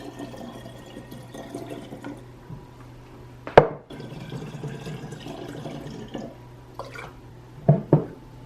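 Fire cider mixture scooped and poured through a small funnel into containers, with faint trickling and dripping punctuated by a few sharp clinks and taps of utensils against glass.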